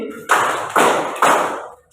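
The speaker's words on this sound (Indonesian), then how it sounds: "tepuk tangannya 3 kali." Three sharp hand claps, loud and close, in a classroom game, evenly spaced about half a second apart, each with a short ringing decay, then silence.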